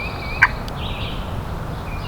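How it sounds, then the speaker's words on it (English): A wild turkey gobbles once, a brief distant call standing out over a quiet outdoor morning background during a hunt. "He's gobbled twice."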